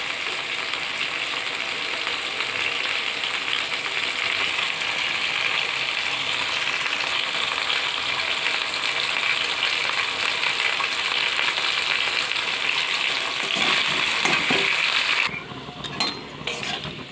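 Sliced potatoes and green banana fry in oil in a pan for a vegetarian bori curry, giving a steady, fairly loud sizzling hiss that drops away near the end with a few light clinks.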